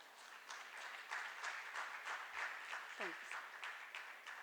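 A conference audience applauds to welcome a speaker to the stage, giving a steady, moderately distant stream of clapping with faint pulsing and a brief voice sound partway through.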